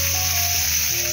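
Stuffed pomfret fries in a pan, giving a steady, continuous sizzle and hiss that stays even throughout, with a faint low hum beneath.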